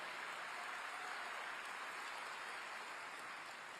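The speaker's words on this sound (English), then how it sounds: "So please, a round of applause for all of you, the ones in the classrooms and on campuses making an impact every single day." Audience applause at a school superintendent's opening address, a dense, even hiss of distant clapping that holds steady throughout without breaks, fairly faint and uniform like rain.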